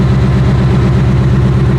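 Ford Mustang with CV Fabrication prototype headers idling, a loud, close, deep rumbling exhaust burble with a steady throbbing pulse for a couple of seconds, no voices.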